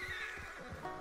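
Horse whinny from the Red Dead Online video game, a single loud neigh lasting about a second with faint hoof clip-clop beneath it, heard alone without talk.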